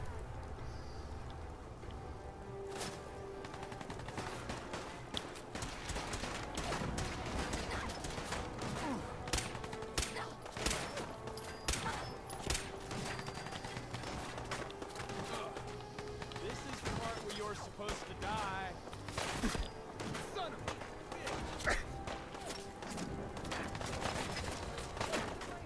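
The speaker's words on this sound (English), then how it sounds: "Where's that shooting coming from?" Gunfire in Fallout 4 at Revere Beach Station crackles in repeated bursts and scattered shots throughout, under steady game sounds and speech.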